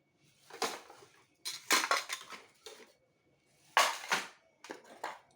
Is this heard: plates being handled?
yes